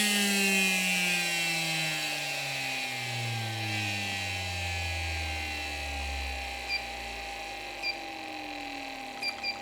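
A 17.5T brushless RC car motor runs on a test bench with a high electric whine whose layered tones slide steadily downward in pitch, loud and continuous, with a few small clicks near the end.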